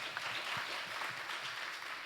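A conference audience gives a brief round of applause, an even, moderately distant patter of many hands with no voices on top.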